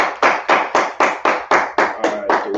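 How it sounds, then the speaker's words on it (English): Loud, evenly spaced claps from a gathered class group, about ten sharp beats in steady rhythm, heard close with a faint voice under the final claps. "Clap it up, clap it up,"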